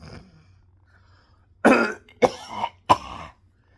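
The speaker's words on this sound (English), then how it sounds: "Let me clear my throat." Three rough throat-clearing bursts, close and fairly loud, each a short harsh rasp separated by brief pauses, after a quiet stretch.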